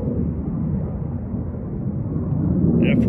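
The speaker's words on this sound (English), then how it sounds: "That's one of the Air Force jets going now." A US Air Force fighter jet passes overhead near Luke Air Force Base in Glendale, Arizona, a steady low roar that holds loud throughout without a clear peak, heard from the ground.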